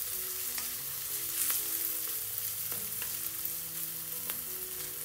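Onion frying in a pan with ginger paste, turmeric and Kashmiri chilli powder for a prawn curry, a steady close sizzle with occasional sharp spatula clinks and scrapes, no talking.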